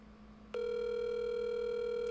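An outgoing telephone call rings back as a single steady electronic tone that starts after a moment of quiet and holds evenly, close and clear, with no voices.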